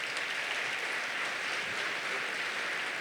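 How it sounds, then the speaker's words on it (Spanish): Audience applause at a book fair presentation in Buenos Aires, a steady wash of many hands clapping that holds evenly for the whole stretch at moderate distance, with no voices standing out. "Un aplauso."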